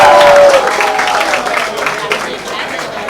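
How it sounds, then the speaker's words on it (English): Audience at a live public dance event clapping and cheering, a loud burst of applause that gradually fades over a few seconds, with a voice over a speaker system at the start. "Please give them a huge round of applause."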